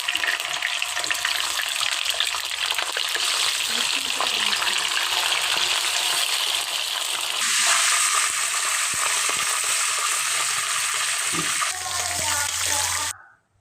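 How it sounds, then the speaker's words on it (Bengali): Marinated chicken roast pieces fry in a pan on a gas stove, a continuous bright sizzle with stirring and light clatter, lasting over ten seconds before cutting off abruptly. "এখন আমি রোস্টগুলো ভালোভাবে ভেজে নেব। আমি গ্যাসের চুলায় প্যান বসিয়ে দিয়েছি।"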